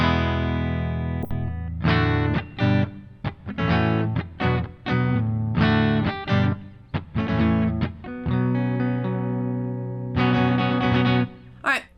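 Clean electric guitar played through a Seymour Duncan PowerStage 170 amp with no distortion, heard as a run of strummed chords and sustained notes with short pauses between phrases, loud and alone.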